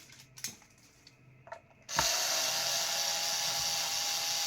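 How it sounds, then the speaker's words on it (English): A few small clicks and knocks, then a power tool whirs on and runs loudly and steadily, a continuous high mechanical whine, removing neck screws from a guitar. "And then I can use a power tool."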